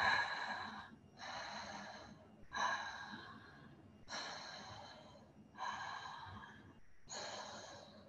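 Rapid, continuous breathing with no pause between inhaling and exhaling, a breathing exercise demonstration: six forceful breaths of about a second each, close and loud, with brief gaps, and no talking.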